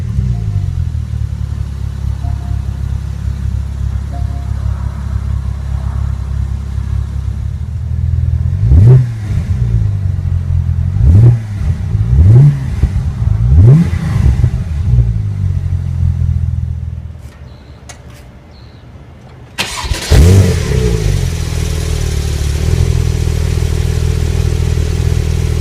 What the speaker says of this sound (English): let's jump into the driver's seat, start it up and see how it sounds